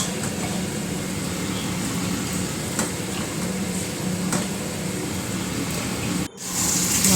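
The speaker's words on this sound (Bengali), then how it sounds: "মাংসগুলোকে ভালোভাবে মশলার সঙ্গে কষিয়ে নেব।" Chicken pieces sauté with turmeric and chili powder in a pan over high flame, giving a dense, continuous sizzle with occasional stirring scrapes and clicks, ending with a brief dropout and louder sizzle.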